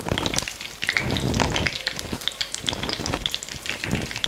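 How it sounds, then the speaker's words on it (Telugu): Tempering spices and cumin seeds sizzle in hot oil, giving a busy crackling spatter with sharp pops, close and steady throughout. "నూనె వేడెక్కింది. ఇప్పుడు పోపు దినుసులు వేసుకుందాం. పోపు దినుసులు, అలాగే జీలకర్ర,"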